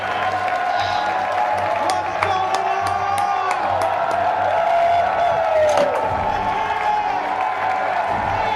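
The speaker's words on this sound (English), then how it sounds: "There's nothing like a jacked, excited crowd" An excited crowd cheers, whoops and applauds loudly and continuously, a dense wash of clapping and shouts with scattered sharp whistles and yells, voices mixed in throughout.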